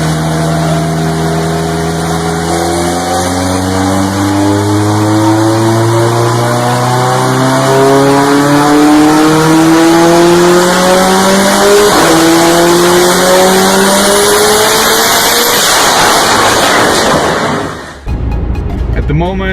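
A car with a newly fitted exhaust accelerates hard and loud nearby, the engine note climbing through repeated gear-like sweeps, then cuts off abruptly near the end.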